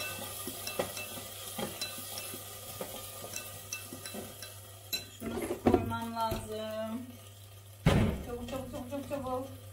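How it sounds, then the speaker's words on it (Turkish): Tomato paste frying and being stirred in a pan in a home kitchen, with a soft sizzle under repeated scraping and clinking of a utensil against the pan, plus a few louder clanks near the end. "bir taraftan salçayı kavuruyorum"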